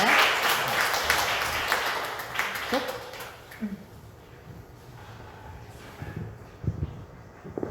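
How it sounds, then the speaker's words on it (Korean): Applause from the audience at a monthly civic association meeting after a professor's lecture, loud at first then fading into quieter room noise with scattered sounds, and a voice speaks briefly near the end. "다시 한번 큰 박수 부탁드리겠습니다"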